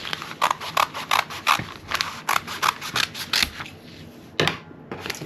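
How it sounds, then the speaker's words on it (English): Scissors cut across a sheet of newspaper for a papier-mâché owl, a close series of about a dozen crisp rhythmic snips with papery rustle, pausing briefly before two final cuts. "I'm just going to take my scissors"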